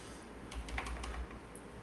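Soft, rapid clicks of arrow keys being pressed on a computer keyboard while working in a terminal text editor, a quick run of faint taps over a steady background hiss.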